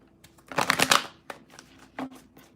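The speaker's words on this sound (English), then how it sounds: "I'm just shuffling." Tarot cards being shuffled nearby: a dense riffling burst, then a few short, softer flicks and taps, with no talking.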